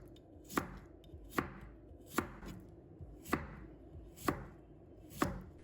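A knife slices a slim cucumber into thin pieces on a cutting board, six crisp, evenly spaced thuds of blade hitting board, close and alone with no voices.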